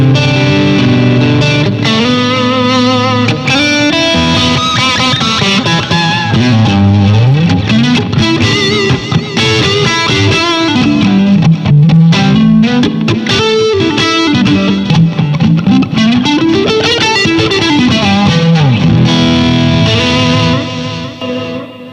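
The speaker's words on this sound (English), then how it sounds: "So like here's an echo." An electric guitar plays through an echo effect, with an OCD overdrive and a compressor, into a Blackstar Amped 1 pedalboard amp. Loud, distorted melodic lines ring on continuously with trailing repeats, and there is no talking.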